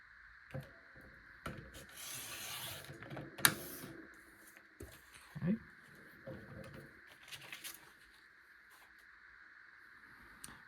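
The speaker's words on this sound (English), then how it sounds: "I'll cut them here" Scissors cutting paper tree border pieces for a Christmas caroling scrapbook layout, with several short snipping and rustling bursts at close range, spaced irregularly between quiet gaps.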